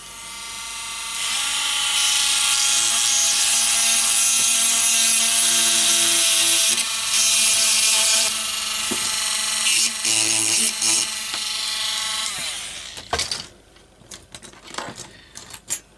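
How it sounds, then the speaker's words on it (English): A narrow grinder cuts away parts from a Triang TT gauge model train, a loud, sustained high-pitched whine running for about twelve seconds with slight dips in pitch before cutting out, followed by faint handling clatter. "I'm just going to remove these using my grinder. So, grinder here, very narrow tool. So again, it will be noisy."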